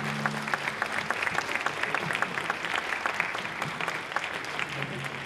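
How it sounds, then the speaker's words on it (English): An audience at a community meeting about the Baltimore–Washington maglev train applauds a state senator, steady crowd clapping at moderate distance, fairly quiet, with a faint voice briefly underneath. "you all can please give Senator Paul Pinsky a round of applause"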